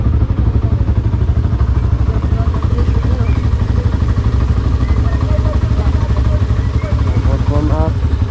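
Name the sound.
motorcycle engine warming up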